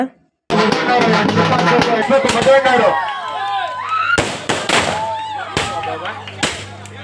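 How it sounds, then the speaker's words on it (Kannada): Firecrackers burst at a night Ganesh festival celebration, sharp cracks and booms in irregular bursts over a loud crowd, with whistling streaks rising between blasts and people shouting nearby. "ಹುಡುಗರೆಲ್ಲ ಸೇರಿ ಪಟಾಕಿ ಎಲ್ಲ ಹೊಡ್ಕೊಂಡು ಚೆನ್ನಾಗಿ ಸೆಲೆಬ್ರೇಷನ್ ಮಾಡಿದ್ರು ಗಣೇಶ ಉತ್ಸವನ"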